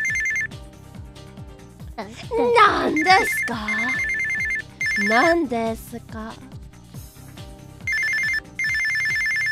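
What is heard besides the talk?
telephone ringing in an anime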